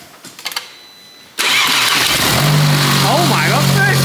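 A Mercedes CLA engine fires up for the first time after an engine replacement: a short starter crank, then a sudden loud catch settling into a steady, close-by running note, with voices reacting over it.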